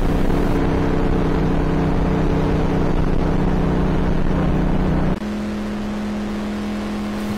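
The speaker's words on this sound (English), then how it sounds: "There you can hear me hit the rev limiter right there." A NASCAR stock car engine holds a loud, sustained drone against its 5,400 rpm rev limiter, then drops abruptly to a lower, steadier tone near the end.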